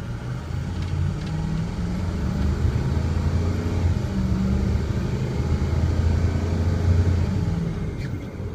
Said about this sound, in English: Here we go now into full throttle.